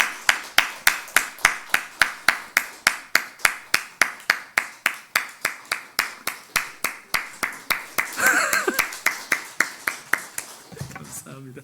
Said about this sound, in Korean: 우리 큰 박수로 문 권사님이 저 위에 계신데 나올 때까지 박수로 맞이하도록 하겠습니다.